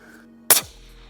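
A single sharp rifle shot from an Aero Solus in 6.5 Creedmoor cracks loudly and close, followed by a short fading echo.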